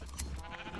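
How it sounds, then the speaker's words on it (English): A short electronic bleat from a sheep in a Minecraft-style video game, one brief nasal call, close and clear over faint background. "Okay, come over to these sheep."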